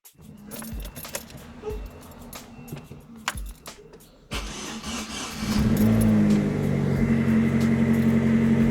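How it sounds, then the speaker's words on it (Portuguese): A car engine, just fitted with a replacement pulley, cranks and catches after some clinking and rustling near the vehicle, then settles into a steady, loud idling hum close by. "Agora eu vou aqui ligar o carro."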